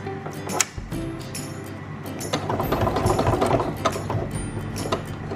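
A sewing machine stitching webbing, running in a steady mechanical whir with a rhythmic needle clatter, close and continuous, briefly pausing near the start before resuming.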